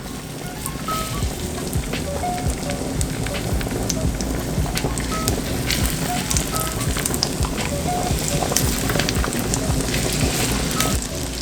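A flounder fillet fries in hot oil, giving a steady, loud crackling sizzle with dense pops throughout, close up and without pause.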